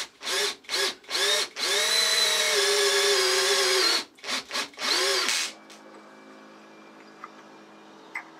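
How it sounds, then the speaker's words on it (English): Power tool tapping two holes in a metal die holder, several short whirring bursts up to a sustained run of about three seconds, then more brief bursts before stopping, close and loud with quiet afterward. "The last job is just to tap the 2 holes and I can fit the handles."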